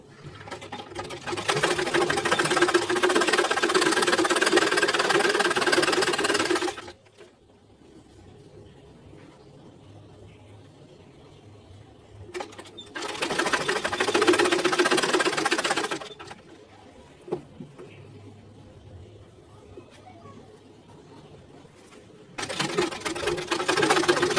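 A sewing machine stitching the extra neck fabric of a blouse runs in three loud, steady bursts of whirring, separated by quiet pauses.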